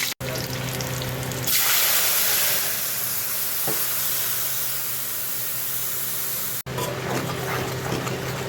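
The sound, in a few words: nigella seeds sizzling when tempered in hot oil for fish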